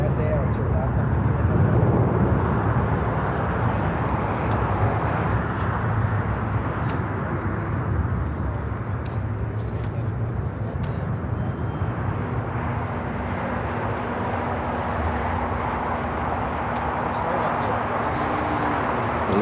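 An Eva Air Boeing 777-300ER on approach to LAX, arriving from Taipei over downtown Los Angeles: a steady, broad roar that holds throughout the clip, with birds cooing at times in the foreground.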